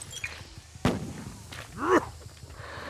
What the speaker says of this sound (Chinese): 放鞭炮哎、欸！